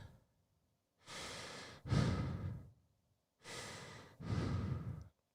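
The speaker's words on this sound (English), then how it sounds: "you wait till after the credits and you hear the labored breathing" Labored breathing from the end of a Halloween film after the credits, two slow heavy breath cycles, each a rasping inhale followed by a louder, rougher exhale, separated by silence and heard close and alone.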